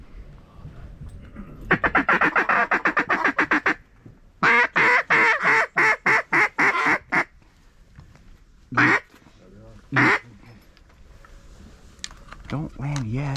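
Ducks quack in rapid bursts of repeated calls on a duck hunt, loud and close, in several separate runs with quieter gaps between them and a few single quacks near the end.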